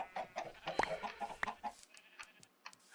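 Chickens cluck in the Minecraft video game, a series of short, sharp, moderately loud in-game clucks in an uneven rhythm with brief gaps between them.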